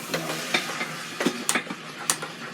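Irregular clicks and crackles of meat sizzling in a pot of salsa chili, with scattered sharp ticks and stirring scrapes at close range, no voices.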